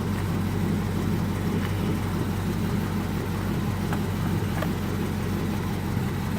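A manual-shift car rolls back on a hill with the brake released. Its engine gives a loud, steady low rumble throughout, with a few faint clicks and no voices.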